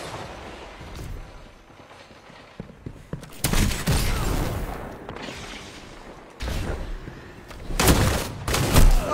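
Shotgun fire in a Destiny 2 Gambit match, with heavy booming blasts clustered in bursts over the game's background din, growing louder toward the end.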